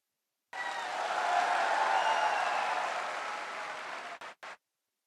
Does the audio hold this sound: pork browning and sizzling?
no